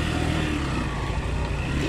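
Motorcycle ridden along a rough off-road mountain track in Gorkha, engine droning steadily and loudly with a continuous rumbling rev, no talk over it.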